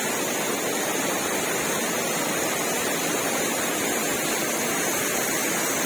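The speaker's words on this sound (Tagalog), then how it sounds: "Series of waterfalls." Mae Pan waterfall in Chiang Mai, a tall series of falls, gives a dense, steady roar of rushing water, loud and unbroken throughout with no voices.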